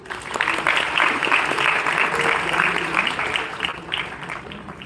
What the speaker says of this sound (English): So can we clap for him?